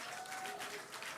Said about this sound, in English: The crowd here at Mission Control Hawthorne also getting excited, just like us.